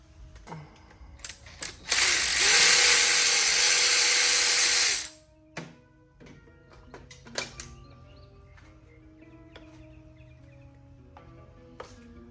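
A ratchet works on a T30 bolt during an Audi 4.0T V8 engine teardown, producing a loud, dense run of rapid clicking for about three seconds. Scattered tool knocks and handling clatter follow in a quiet workshop.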